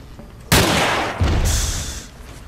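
A Magnum shot in the game Resident Evil 4, one sharp loud blast with a booming tail, then a second heavy report with a ringing decay.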